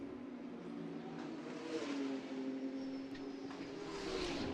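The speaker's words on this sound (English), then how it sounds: "The car dancing between the barriers either side of him, van der Linde behind, and now Vanthor makes this climb up towards San Francisco Hill" A GT race car engine at the Macau Grand Prix during qualifying, a steady high-pitched engine drone climbing uphill between street-circuit barriers, with a constant whir and no clear pass-by.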